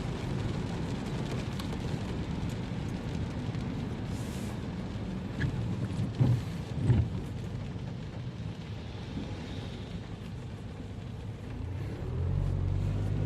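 Rain falling steadily around a parked vehicle at a Toyota factory car park, a dense, continuous hiss with a low rumble underneath, a few louder splashes midway, and no talking.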